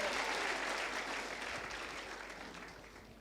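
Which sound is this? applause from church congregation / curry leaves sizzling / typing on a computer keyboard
applause from church congregation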